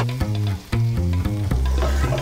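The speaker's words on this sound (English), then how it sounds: "she wants me to turn the heat up and boil this for several minutes" Tomatoes cooking in a pan over high heat give a steady, loud sizzle with a few brief breaks, close up and with no voices over it.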